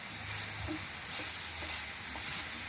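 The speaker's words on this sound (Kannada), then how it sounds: "ಫ್ರೈ ಮಾಡ್ತಾಯಿದ್ದೀನಿ. ಒಂದು 5 ನಿಮಿಷ ಚೆನ್ನಾಗಿ ಫ್ರೈ ಮಾಡಿ." Grated carrot fries in ghee for carrot halwa, a soft, steady sizzle with occasional stirring scrapes, close and fairly quiet.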